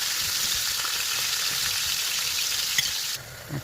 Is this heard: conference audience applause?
no